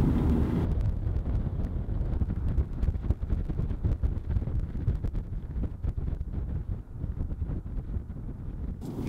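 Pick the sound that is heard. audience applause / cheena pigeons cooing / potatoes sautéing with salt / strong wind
strong wind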